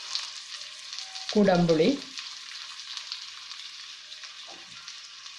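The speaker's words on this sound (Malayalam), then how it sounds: "ഇനി നന്നായിട്ട് വഴറ്റി കൊടുക്കണം" Garlic, green chilli, ginger and onion hit hot oil in a pan for Kerala fish head curry, giving a loud sizzling burst that settles into a steady, fainter frying hiss.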